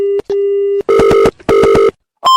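A telephone rings loudly and close: a steady tone, then two long buzzing electronic ring bursts, then the start of another tone, with no one speaking over it.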